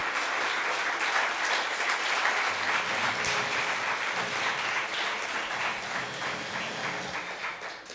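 A congregation at a Brazilian evangelical church service applauds steadily and fairly loudly, a dense, continuous wash of clapping that holds for the full stretch and tapers slightly near the end.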